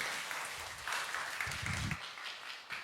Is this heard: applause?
yes